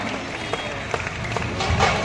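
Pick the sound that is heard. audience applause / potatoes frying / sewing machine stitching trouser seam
audience applause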